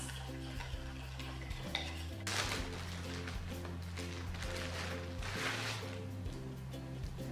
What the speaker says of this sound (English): I'm just going to mix that up until it's a nice looking yellow sauce.